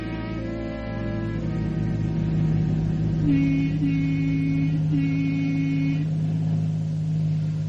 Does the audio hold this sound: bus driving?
yes